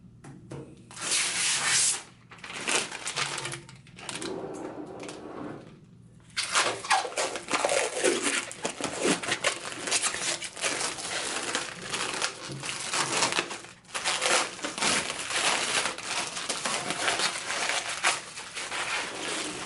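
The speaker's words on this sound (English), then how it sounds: "let's take off some of these stickers here" Protective stickers are peeled off the bed of a SpiderMini pretreat machine, giving close, continuous rasping and crinkling tears in several long pulls separated by short gaps, with no talk.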